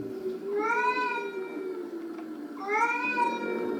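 Two drawn-out meows from Peppa Pig dressed as a black cat, voiced by a person imitating a cat, the first long and wavering, the second rising after a short pause, clear and close.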